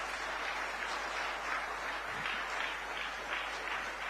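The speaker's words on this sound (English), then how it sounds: "A nice big round of applause one last time." A hall audience at the South India Media Summit in Coimbatore claps in a continuous, fairly distant wash of applause. The clapping stays even throughout, with no clear voices on top.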